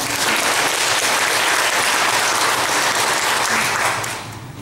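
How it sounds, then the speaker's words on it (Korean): A church congregation breaks into dense, steady applause for the praise team and choir, sustained at full strength before tapering off near the end. "다시 한번 감사 박수 한번."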